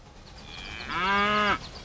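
Cattle lowing in the railway-building video game Railway Empire, a single long, rising moo heard up close and clearly, with no talk over it.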